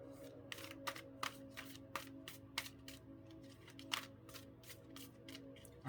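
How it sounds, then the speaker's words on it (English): Two decks of playing cards are riffled and shuffled together in quick repeated bursts, crisp flutters close by, with a low steady hum underneath. "I can normally shuffle these two decks together quite okay"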